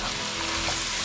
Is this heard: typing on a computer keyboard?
no